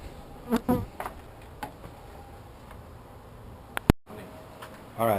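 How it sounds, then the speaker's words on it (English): Bees buzzing faintly during a live removal from a stucco roof, with a few brief sharp knocks and bumps scattered through, including one loud crack near the end. "vacuum the bees up off that honey"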